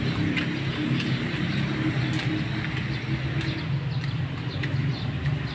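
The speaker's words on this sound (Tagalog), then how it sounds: "Ang dami kasing dumadaang sasakyan." Street traffic passes continuously, a steady broad rumble and wash of vehicles with faint clicks and distant sounds, no voices heard.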